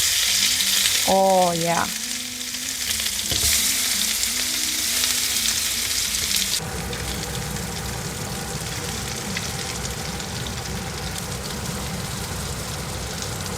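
Tuna patties frying in a pan, a loud, steady close sizzle that runs throughout, with a brief spoken comment and a short melodic tone early on before the hiss continues alone.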